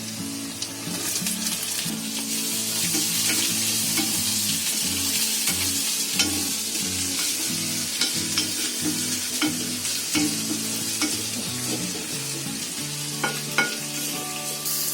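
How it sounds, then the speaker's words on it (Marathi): Finely chopped onion and garlic fry in a pan over medium heat, a loud continuous sizzle with occasional stirring scrapes and small crackles, heard alone without talk. "आता आपला कांदा हळूहळू फ्राय करून घ्यायचा आहे"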